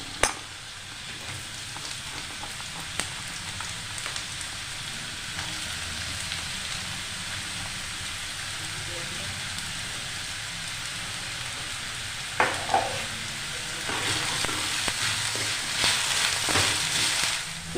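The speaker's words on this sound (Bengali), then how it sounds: "আগে দিয়ে দিচ্ছি গাজর আর আলু। এটা একটু সামান্য ভাজা ভাজা করে নেব।" Carrots and potatoes fry in hot oil in a home kitchen, giving a steady close sizzle for the whole stretch with occasional clinks of a stirring utensil and a louder surge of crackling toward the end.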